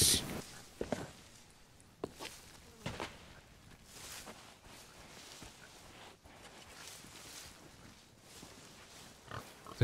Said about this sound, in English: There's some pigs.